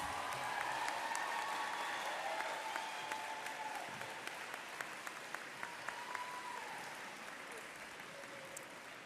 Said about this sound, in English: Give all of our 8th graders another round of applause.